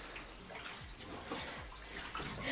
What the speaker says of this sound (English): The waterfall noises every time the dress gets raised.